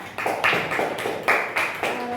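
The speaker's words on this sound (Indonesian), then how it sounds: "silakan berikan tepuk tangan buat kelompok 4" A classroom of students claps for a group after their presentation in a math lesson, a handful of distinct uneven bursts of clapping, moderately close and fairly loud.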